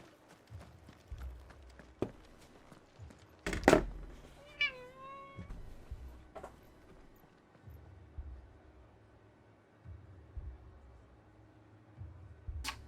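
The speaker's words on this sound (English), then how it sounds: "just trying to maybe persuade my cat to not need a treat every 2 minutes" A pet cat gives a clear rising meow, then a short series of quick chirping meows, at close range in a quiet room with soft thumps and clicks around it.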